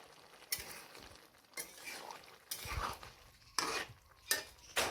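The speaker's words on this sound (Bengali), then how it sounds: "দেখুন সেই গরম মশলাটাকে এখন খুব নেড়ে চেড়ে মিশিয়ে দিচ্ছে" Garam masala being stirred vigorously into chickpea ghugni in a pan, giving bursts of scraping and clattering utensil strokes over a soft sizzle, close and moderately loud, arriving in irregular strokes with short pauses between them.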